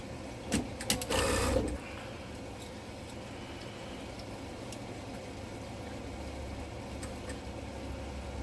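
A sewing machine stitching quilt squares together runs in a short, loud whirring burst of about a second, then stops, leaving only a low steady hum and faint room noise.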